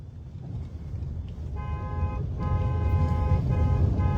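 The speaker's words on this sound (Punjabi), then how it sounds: "ਹਾਰਨ ਤੇ ਹੱਥ ਰੱਖ ਹਾਰਨ ਤੇ ਹੱਥ ਰੱਖ" A car horn sounds in several short and longer blasts over steady road traffic noise, growing louder toward the end.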